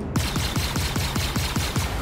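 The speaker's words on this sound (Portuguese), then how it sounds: "Os caras tão socando bala na nave." Rapid bursts of Star Citizen gunfire aimed at a yellow spaceship, about a dozen evenly spaced shots in a quick rhythmic volley, loud and close.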